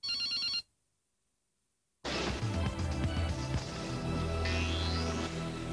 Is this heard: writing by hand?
no